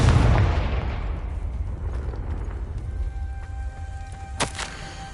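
The Confringo fire spell going off in Hogwarts Legacy: a loud, close blast at the start that fades into a long rumbling tail, followed near the end by a short ringing clatter.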